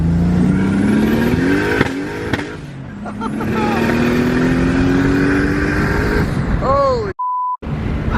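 A turbocharged BMW E30 running about 20 PSI of boost pulls hard, its engine note climbing steadily through the gears with loud in-cabin roar and whine, while occupants exclaim over it.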